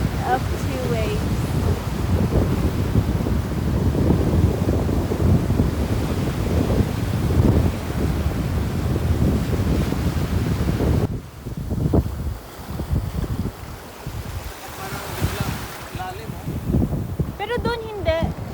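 Waves washing against an island sandbar under strong wind buffeting the microphone, a continuous roar that eases to lighter surf, with people talking over it.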